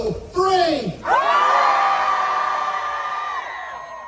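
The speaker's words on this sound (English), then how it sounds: "Can we scream loud enough that he hears us?" A crowd screams at Knott's Scary Farm, the Halloween haunt event. A short voiced count comes first, then a loud, sustained mass scream and cheer that slowly fades.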